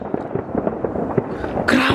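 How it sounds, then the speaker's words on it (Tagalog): Fireworks bursting on New Year's Eve, a steady crackling barrage of loud pops and bangs with a brighter, denser burst of crackle near the end. "Grabe ang fireworks!"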